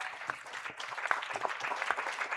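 Steady applause from an audience at a medical conference event, a soft wash of many hands clapping at moderate distance.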